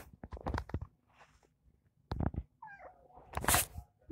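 A young adult house cat gives a clear, drawn-out meow near the middle, between scattered soft thumps and shuffling handling noises, close by in a quiet room.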